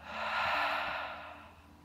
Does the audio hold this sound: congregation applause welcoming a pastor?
no